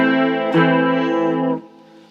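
A sustained, shimmering electric guitar chord through the chorus effect of a Marshall MG15CFX amp rings out with a lush, wavering modulation, then is cut off abruptly, leaving a faint tail.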